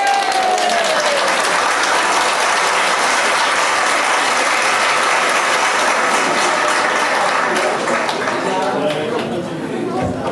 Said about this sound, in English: Congratulations all. A round of applause.